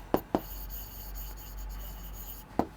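Pen or marker writing out a maths solution for a Class 10 triangles lesson: a few short scratchy strokes at the start and end over a steady low hum, with no talking.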